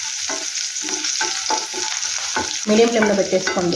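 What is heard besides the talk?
garlic frying in oil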